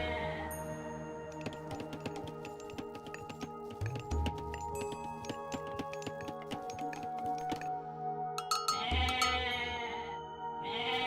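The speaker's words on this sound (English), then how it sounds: "Got a goat there." Goat bleating in the Age of Mythology strategy game, several wavering bleats repeating over dense in-game music and battle effects, fairly loud and close throughout.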